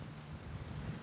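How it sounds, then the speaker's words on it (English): Strong gusty wind buffeting the microphone outdoors on a disc golf course, a steady low roar with no other sounds. "It's gonna take 2 good shots to get up and down for par, especially in this rager of a wind."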